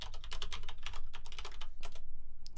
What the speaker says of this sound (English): Let me type that in here.